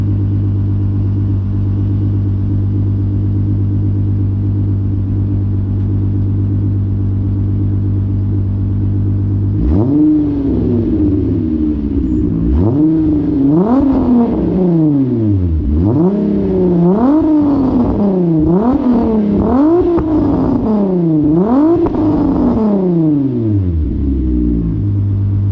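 A Volkswagen VR6 car engine idles with a low steady rumble, then revs repeatedly in rising and falling surges, loud and close.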